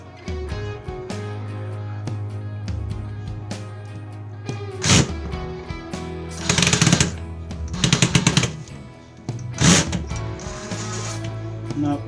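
A power drill driving a screw whines in bursts, with sharp grinding surges as the bit slips and strips the screw head, over a steady mechanical hum.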